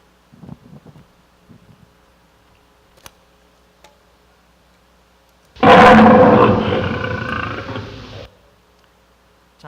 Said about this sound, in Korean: 먼저 호랑이 소리가 되겠습니다